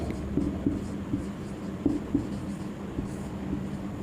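Chalk tapping and scraping on a classroom board while a Sanskrit word is written, with irregular short strokes and taps over about four seconds and no one talking.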